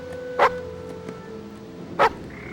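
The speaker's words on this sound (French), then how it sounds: "Pourquoi tu aboies?" A dog named Sandy barks twice, about one and a half seconds apart, each bark short and sharp and fairly close over a quiet background.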